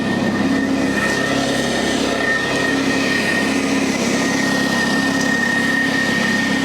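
A commercial carpet cleaning truck engine idles steadily with a constant low drone and a faint high whine, loud and unchanging, with no talking.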